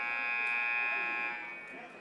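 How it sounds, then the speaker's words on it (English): A warning buzzer sounds at a high school basketball game in a gym, one sustained loud electronic tone lasting nearly the whole moment before fading, with a crowd murmuring faintly underneath. "We just heard the warning buzzer there."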